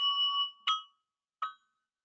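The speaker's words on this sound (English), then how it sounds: "building the pentatonic scale, which is what you get if you uh, just use the black bells" Three separate bell tones from Montessori bells ring clearly one after another, each a pure chime that fades, with silence between the last two strikes.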